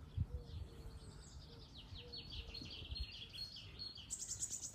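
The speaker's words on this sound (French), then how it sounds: "Les petits oiseaux chanter" Small birds chirping and singing outdoors near a farmyard, many quick high tweets in repeated bursts over a soft background hum, fairly faint and distant.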